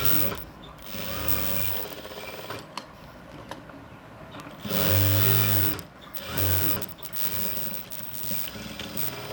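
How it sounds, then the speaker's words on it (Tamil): A sewing machine runs a straight stitch along a blouse sleeve in a tailoring setting, with a steady mechanical whirr and rapid needle clatter that swells and eases in bursts, close and moderately loud. "நேராக இப்படி தையல் போட்டுற வேண்டியதுதான்"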